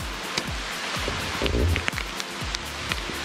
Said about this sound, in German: es hat jetzt stärker angefangen zu regnen